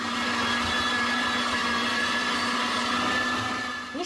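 Electric meat grinder mincing peeled, chopped eggplant through its coarsest plate, a steady motor whine and hum close by that runs unbroken before easing off at the very end.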